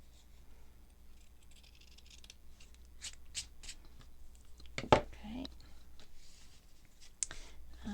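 Scissors snip through fabric for a junk journal cover in short, quiet, close cuts spread across the moment, amid light handling rustle and soft speech.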